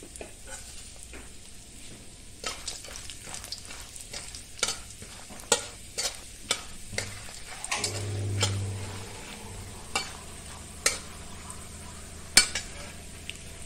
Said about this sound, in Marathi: आता हे सगळं आपण हे तेल तापलं की त्यात टाकूया